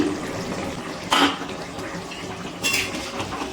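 A lid lifts off a pan of cauliflower curry with potatoes and duck eggs, giving two brief metallic clanks about a second and a half apart over a quiet simmering background.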